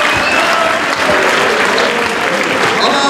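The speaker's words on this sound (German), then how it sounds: "Und auch Applaus natürlich für Thomas Benedikt" Dense, loud crowd applause at a combat-sports fight event just after a TKO finish, continuous clapping throughout with faint crowd noise mixed in and no clear voice over it.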